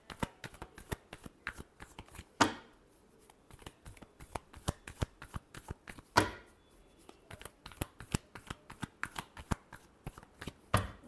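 Tarot cards are shuffled in quick, crisp riffling bursts, a dense run of sharp flicks with two louder bridge-like swishes, close and unaccompanied by talk.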